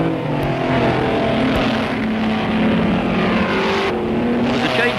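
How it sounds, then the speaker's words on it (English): A 1959 Maserati race car rounds a corner at the Bathurst circuit, its engine giving a loud, steady roar throughout with shifting pitch, plus a brief swell near the end. "Doug Whiteford takes his Maserati round Murray's Corner 20 seconds behind Jensen"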